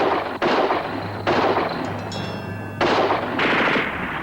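Bursts of gunfire crack out in several loud, broad blasts spread over a few seconds, with a sustained ringing tone between shots, during a tense scene with a Vietnam veteran.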